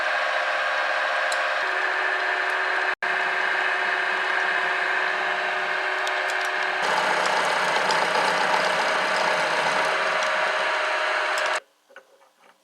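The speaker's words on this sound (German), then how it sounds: "Wir müssen jetzt von der Gegenrichtung fräsen, also jetzt müssen wir von hinten nach vorne arbeiten." A mini milling machine cuts steel with a steady, loud whine and grinding hum that shifts pitch partway through, one sharp break early on, then cuts off near the end with a few faint clicks.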